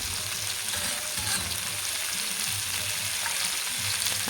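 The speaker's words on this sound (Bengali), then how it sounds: "আলু পটলটা ভালো করে কষাচ্ছি।" Potatoes and pointed gourd sizzle and fry steadily in a pan for curry, a continuous crackling hiss with occasional stirring scrapes, close and alone.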